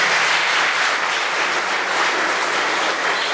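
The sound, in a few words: audience applause for cell group hosts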